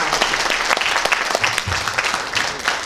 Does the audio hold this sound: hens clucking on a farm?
no